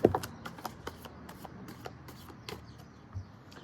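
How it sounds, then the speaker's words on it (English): A deck of cards being shuffled during a full moon ritual, a quick run of soft riffling clicks and flutters with a louder burst at the start, fairly close and quiet. "So let's just shuffle this deck"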